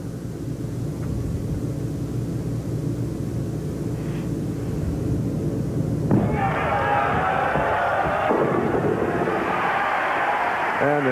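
Crowd cheering erupts at a 1995 Brunswick Tournament of Champions bowling event, a loud burst of applause and shouts rising over steady arena murmur and lasting several seconds.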